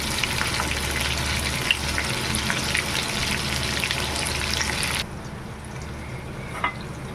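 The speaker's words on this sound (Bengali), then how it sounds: "বেগুনগুলোকে খুব ভালো করে ভেজে নেব" Eggplant pieces frying in oil over a low flame sizzle in a constant, close hiss that drops off sharply near the end, leaving only faint background.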